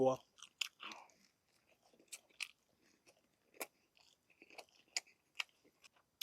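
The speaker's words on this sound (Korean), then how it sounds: "입에 빵을 이렇게 씹고 나 야채랑 먹었는데 고기가 마지막에 이렇게 씹혀요" Someone chews Domino's new meat-topped pizza close to the mic, biting through bread and chewy meat. Soft crunches and wet chewing sounds come in an irregular rhythm, with a short vocal sound at the start.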